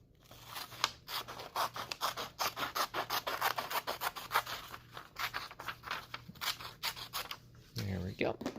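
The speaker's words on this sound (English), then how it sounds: "We'll take our scissors and cut it in half." Scissors cut a sheet of paper in half with a rapid series of crisp snipping strokes, close and steady.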